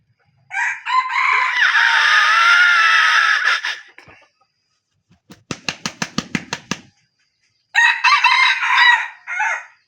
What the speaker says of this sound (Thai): ไก่หอนตั้งดีสักขนาดตัวนี้